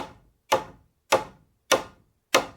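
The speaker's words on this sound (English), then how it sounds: "And now there came the chock-chock of wooden hammers." Five hollow wooden knocks land at a steady, unhurried pace, each sharp and clear with a short ringing decay, heard alone.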